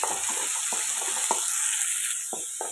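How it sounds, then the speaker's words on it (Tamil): Finely chopped large onion fries in oil with curry leaves and mustard seeds for a prawn gravy: a close, continuous hiss of sizzling with a few regular soft knocks of a spoon stirring. "ஒரு வெங்காயம் பொடிசாக நெருக்கணும் பெரிய வெங்காயம் ஒரு வெங்காயம் இதை நல்லா வதக்கலாம்"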